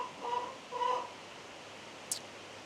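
Chickens clucking on a rainy homestead during feeding time, two short bursts of clucks at moderate distance over steady rain noise, with a brief sharp high chirp near the end.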